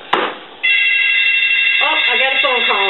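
An electronic telephone ringer trills in a steady, loud repeated tone in a home kitchen, with a brief click at the start and a second warbling ring pattern layered in toward the end; no talk over it.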